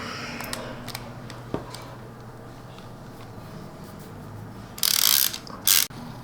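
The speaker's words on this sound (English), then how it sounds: "Now we need our socket back." A socket ratchet works on a nut on a Johnson Century C2000 spincast fishing reel, giving quiet clicks and scrapes over low background hum, followed by two short bursts of louder mechanical rattling near the end.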